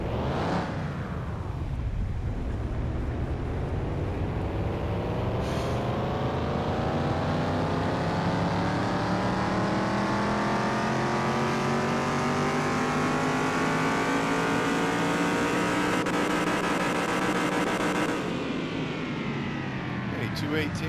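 A Pontiac GTO engine in the video game Car Mechanic Simulator revs up in a long, steady climb, then drops back, a loud, sustained, close engine tone.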